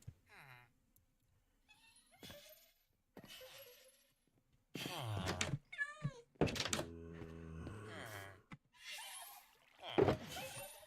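Cats meowing in a Minecraft game, several short game-sound calls scattered across a chill build session, mixed with other in-game thunks and effects at moderate loudness.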